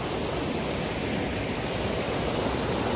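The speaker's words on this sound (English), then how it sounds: "Here's the waterfall." Waterfall in a ravine pouring over mossy bedrock into a deep pool, heard as a loud, steady broadband roar of rushing water with no break.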